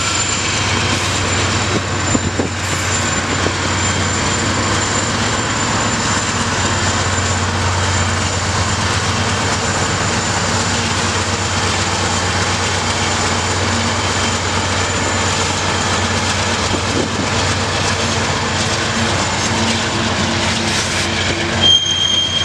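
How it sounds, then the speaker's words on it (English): A heavy freight train with a mid-train distributed power locomotive rumbles past steadily at close range around a curve, a deep continuous roar of engines and rolling wheels with faint squeals. "a mid-train DPU came thundering around the curve."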